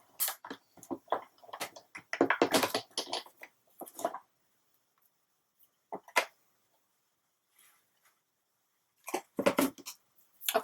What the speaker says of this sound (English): run it through the Big Shot.